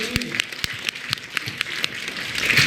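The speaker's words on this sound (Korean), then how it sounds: "하나님께 박수를 드립니다." A Korean church congregation at a festival worship service applauds, starting with scattered sharp claps that thicken into a fuller round of applause, with faint voices underneath.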